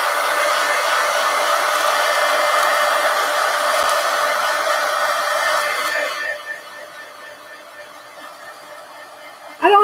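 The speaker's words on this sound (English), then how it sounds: "now I'm going to go ahead and dry that. Just use my heat gun here." An old heat gun blows hard and steadily close by while drying glue and paint on a mixed-media book page. It runs loud for about six seconds, then drops away to a quieter hiss.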